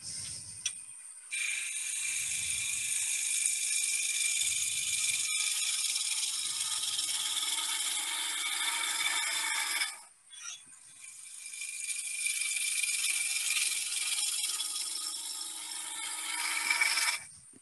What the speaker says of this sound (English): when that is called a planing cut, where you're coming across here like this